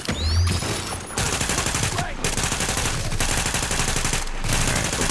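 Rapid automatic gunfire in the video game Tom Clancy's The Division, loud sustained bursts broken by brief pauses, close and dense, with a voice partly heard under the shots.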